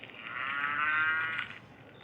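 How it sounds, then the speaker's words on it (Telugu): Buffaloes in a dark horror game set around an old temple-like house at Bhangarh fort give a drawn-out bovine moo or low call, rising and then fading over about two seconds, heard alone without talk. "ఇక్కడ బర్రెలు"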